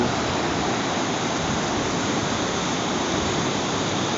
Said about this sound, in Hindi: वो सामने जो छोटा सा झरना जैसा आ रहा है वो है तप्तकुंड का गर्म पानी।